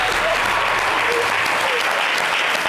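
A studio or show audience applauds for Daniel on a French-language talk program, a loud, dense, continuous burst of clapping filling the whole moment, with some voices mixed in.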